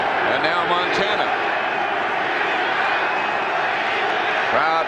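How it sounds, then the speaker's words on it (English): Large football stadium crowd at an NFL playoff game between the 49ers and Giants, a dense, steady roar of many voices that could be a defense chant. It stays loud and sustained throughout, with scattered thumps and claps. "Crowd chanting defense"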